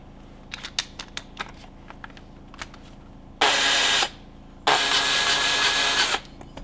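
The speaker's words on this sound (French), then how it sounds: "avec la perceuse, évidemment, tu vas voir avec le bruit" An electric drill lapping engine valves whirs in two sustained bursts, a few seconds each, separated by a pause, with scattered sharp taps and clicks beforehand.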